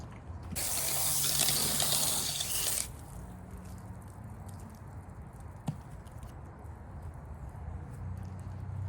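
Water sprays onto the door of a 1983 Ford Mustang Foxbody to rinse off rust dissolver, a loud hissing burst lasting about two seconds, then quieter dripping and a single faint click.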